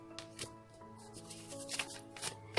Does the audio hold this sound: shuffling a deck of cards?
yes